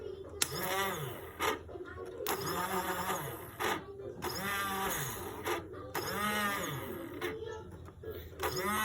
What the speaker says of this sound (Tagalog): Meron ng kakaibang tunog tong starter motor.